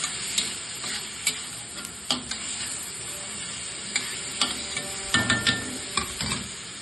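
Brinjal, onion and tomato frying in a pan for a vankaya pulusu curry, a steady close sizzle with scattered clinks and stirring scrapes of a spoon against the pan throughout.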